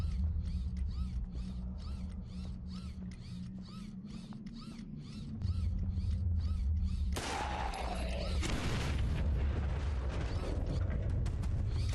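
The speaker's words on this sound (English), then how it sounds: "Who doesn't love some explosions?" Explosions in the zombie shooter Zompiercer: a rapid, regular mechanical ticking runs for several seconds, then a loud, sudden blast bursts in and leaves a heavy rumbling tail that fills the rest of the moment.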